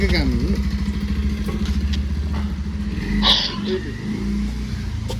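Motorcycle engine running with a steady low throb and a brief rise in revs near the middle, set up before a ride to Ladakh; people talk over it throughout.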